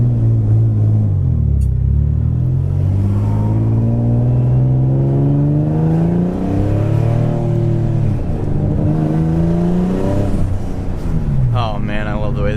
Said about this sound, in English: Oh man, I love the way this car sounds.